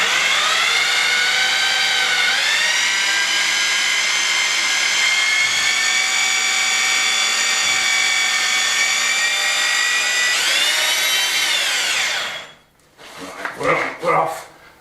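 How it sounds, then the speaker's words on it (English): A power drill fitted with a stone hole saw, set to rotate without hammer, whines steadily at high speed for about twelve seconds, its pitch dipping briefly under load, then stops and gives way to scraping and clatter. "if you're using a hole cutter for stone, a hole saw for stone, you don't want your drill on hammer"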